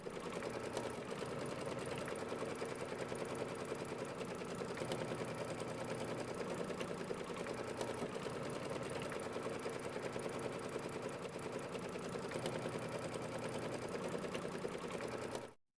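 A sewing machine runs steadily with white thread, finishing a letter on a mini quilt block, a fast, even stitching whir that continues close and uninterrupted for the whole stretch before cutting off abruptly.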